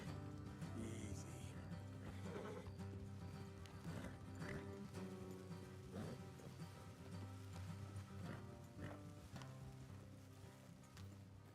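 Horses plod along a trail in Red Dead, hooves clip-clopping in a loose steady rhythm over ambient outdoor sound, with a faint whinny and music-like tones underneath.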